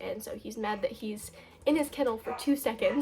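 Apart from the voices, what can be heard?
None of the usual background noises is heard.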